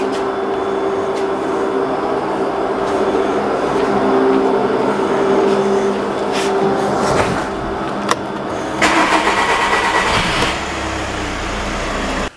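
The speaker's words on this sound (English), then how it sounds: "You might have noticed the engine was cranking a little bit longer." A 2009 Audi A3 diesel engine cranks with a steady, long whir before catching and starting, loud and close, ending in a rougher idle burst.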